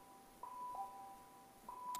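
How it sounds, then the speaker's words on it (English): A school bell sounds in clear, steady tones, with a sustained ring starting near the half-second mark and a second ring near the end, each standing out above a quiet room background with no talking. "Excuse the bell, I'm working at school again today"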